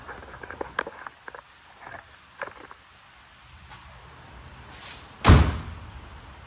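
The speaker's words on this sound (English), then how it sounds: "the door opens and closes and shuts and latches very well" Faint shuffling and light knocks, then a single sharp slam as a Holden VK Commodore's car door closes and latches near the end, close and loud.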